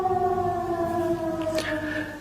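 A loud, steady wailing air raid siren in Kursk region, Russia, holds multiple sustained tones with a slight pitch shift near the end, sounding alone without speech.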